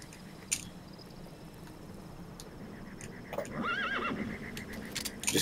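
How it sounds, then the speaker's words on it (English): A horse neighs in the Metal Gear Solid V: The Phantom Pain video game, with a short whinny near the middle that rises and falls over a background of insect-like ambience and faint hoof clops. "Just keeps neighing."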